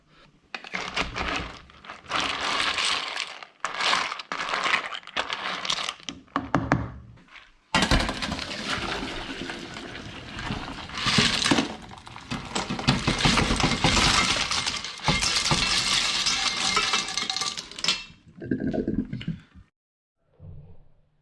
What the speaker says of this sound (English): once the clams are cooked, I'm going to pour them through here, get all of the hot water out